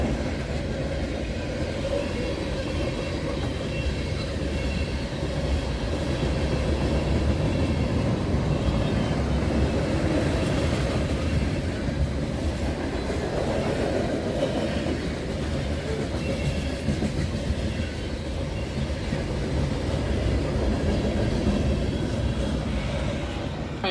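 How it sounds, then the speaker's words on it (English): A CSX freight train rolls past on the Grand Rapids subdivision, giving a steady, loud rumble with rhythmic clickety-clack of wheels on rail joints and occasional faint wheel squeal, with no voices. "with that train gone now"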